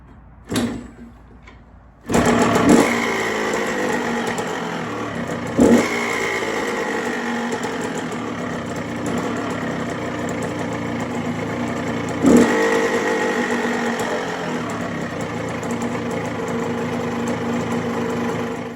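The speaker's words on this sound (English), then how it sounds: "It runs, it idles all day," A cheap trike's engine idles steadily and fairly loud on its own, with a few brief clunks over the running drone and no talking.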